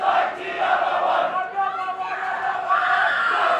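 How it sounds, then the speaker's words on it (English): Rugby sevens final crowd in Seattle at the 2014 USA Rugby Club 7s National Championship, roaring and cheering steadily with whoops and shouts, a dense, loud mass of voices throughout. "Listen to the crowd getting into this."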